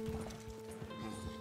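Horse hooves clip-clop in the Red Dead Redemption 2 video game, a quick rhythmic patter of footfalls over a steady tonal game hum, fairly quiet and brief.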